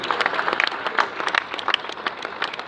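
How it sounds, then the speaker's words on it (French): Audience applause at the 2019 24 Hours of Le Mans scrutineering stage, brief moderately loud clapping with scattered sharp claps and no clear talk. "on va vous applaudir très fort tous les quatre"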